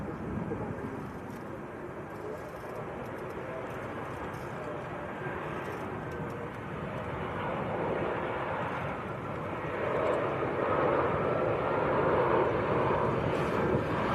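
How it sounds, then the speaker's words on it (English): EasyJet airliner arriving from Liverpool makes a slow landing at Manchester Airport, heard as a steady broadband jet roar that builds gradually and stays continuous, with voices talking faintly over it. "next to land, this is EasyJet from Liverpool"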